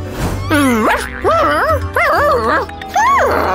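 A cartoon dog lets out a series of loud, close, springy barks and yips in short bursts, with playful voiced calls mixed in.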